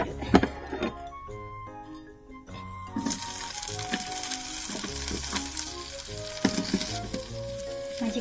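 Olive oil sizzles loudly in a frying pan, a bright, busy crackle that swells after a few seconds and carries on with small spits and pops, over faint melodic sounds.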